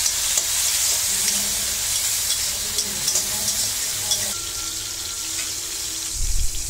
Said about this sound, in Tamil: வெங்காயத்தை ஒரு 5 நிமிஷம் நல்லா வதக்கிடலாம்